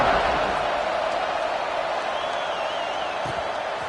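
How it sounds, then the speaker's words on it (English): A stadium crowd roars steadily at kickoff in a college football video game featuring Oregon, a dense, even wash of cheering that holds at a constant level throughout. "They're set to kick it off, and this crowd now ready to get behind them."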